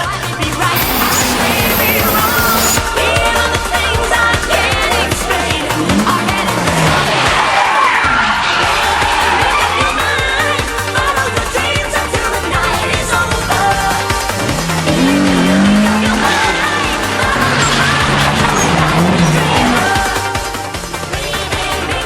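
A Toyota Levin driven flat out in a racing video game, a loud sustained engine drone with shifting pitch and long tire squeals through drifting corners, continuous throughout.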